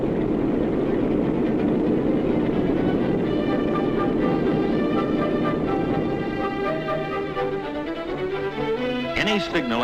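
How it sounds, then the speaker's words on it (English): A train rolls toward a railroad crossing with a loud, continuous rumble that builds into tonal horn-like and warning-signal sounds near the end, with no speech. "the train's coming and it can't stop"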